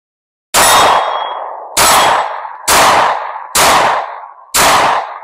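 Five loud pistol shots from a stock Glock 19, each followed by a ringing clang as the bullet strikes a small steel target at 15 yards, spaced about a second apart with long metallic decays.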